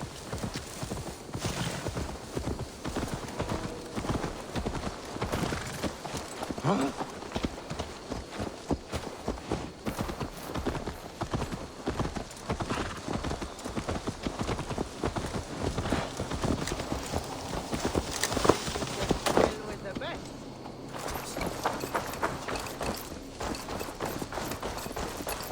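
Horse hooves clip-clopping steadily while riding in Assassin's Creed Valhalla, a continuous rhythmic trot that runs the whole stretch at moderate loudness with an occasional whinny and game ambience around it.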